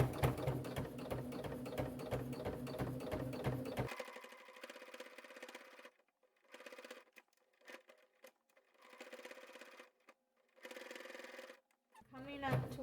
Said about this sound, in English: Tight curve there around the head, so just go slow.